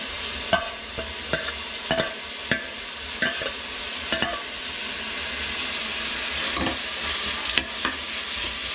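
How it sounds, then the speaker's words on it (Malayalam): Chopped onions, three of them, sautéing in a pan for Kerala beef biryani: a steady sizzle with repeated sharp scraping clicks of a spoon stirring at intervals, close and fairly loud, with no voices. "ആദ്യം 3 സവാള അരിഞ്ഞത് നമുക്ക് വഴറ്റിയെടുക്കാം"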